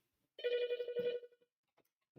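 A mobile phone ringtone goes off in a lecture hall during a combinatorics class, a steady electronic ring of about one second, clear and fairly close, then it stops abruptly.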